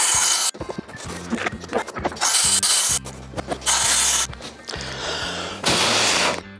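Power saw cutting cement board outdoors, several loud bursts of harsh grinding and hissing separated by short pauses and rattling handling noise, close and without talk.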